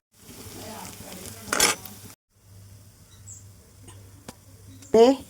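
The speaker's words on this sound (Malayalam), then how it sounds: "ഇതിലേക്ക് നല്ലെണ്ണ ചൂടാകുമ്പോഴത്തേന് നമ്മൾ ഇതിനകത്തേക്ക് ചുവന്നുള്ളി ഇട്ട് വറുത്ത് കോരിയെടുക്കാനാണ്." Shallots fry in hot sesame oil for a ginger pickle, making a soft close sizzle with a few sharp clinks and stirring scrapes, interrupted by a brief pause.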